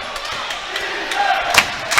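Lively college basketball crowd at a Yeshiva home game chanting and roaring for defense, a dense distant wash of voices that swells briefly toward the end.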